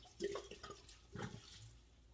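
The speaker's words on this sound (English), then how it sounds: "I'm using the Jamaican red label wine right there. I'm gonna pour on this" Jamaican red label wine poured into a cooking pot, a short soft liquid splash in two brief bursts, close and quiet in a kitchen.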